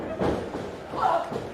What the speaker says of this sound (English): That shot echoed throughout the bar here as Ameera's now sent to the ropes.